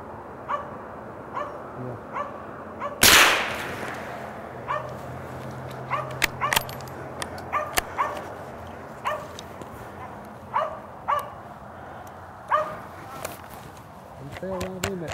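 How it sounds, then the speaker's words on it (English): A squirrel dog barks repeatedly during a squirrel hunt in the woods, sharp mid-distance barks coming in irregular bursts, with a loud rustle or thump early on and low background noise in between. "This dog right here, I'm telling you, is an awesome squirrel dog."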